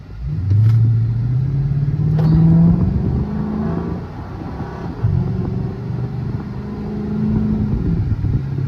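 Chrysler 300C engine with no exhaust, rumbling loud and close as it revs in repeated surges, falling back to a deep idle between bursts.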